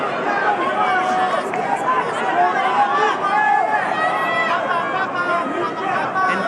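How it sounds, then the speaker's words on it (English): A boxing arena crowd at the Pacquiao versus Barrios fight roars continuously in a dense, loud wash of shouting and chatter, with a commentator's voice running over it throughout. "Just listen to that crowd."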